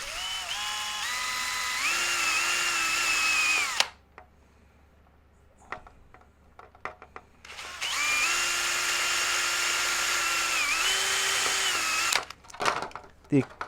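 Two bursts of a small power drill whirring at high pitch while drilling small holes in a polycarbonate part for an HPI Racing Venture SBK RC car, each lasting a few seconds, separated by quiet handling clicks and a pause.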